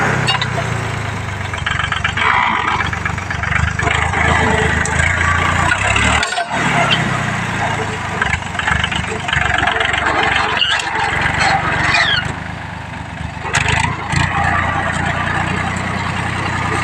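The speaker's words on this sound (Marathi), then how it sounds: "स्वराज ट्रॅक्टर खूप ताकद आहे बरं का त्याला" A Swaraj tractor engine chugs steadily and loudly nearby, with a brief dropout partway through and occasional higher mechanical rattles.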